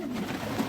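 A pigeon in an allotment loft gives a soft, low, throaty coo, brief and close, with a faint flutter of other bird sounds behind it.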